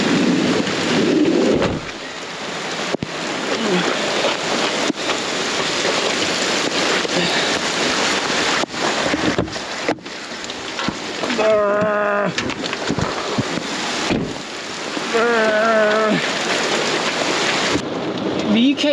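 Heavy rain drums steadily on the roof and walls of a converted old camper van, a dense, loud wash that lasts throughout. A few faint tonal sounds and brief drops in the noise break through now and then.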